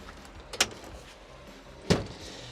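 The sliding cab window on a Volvo EC400 excavator makes two short, sharp slides or clunks about a second apart, close by in a quiet cab.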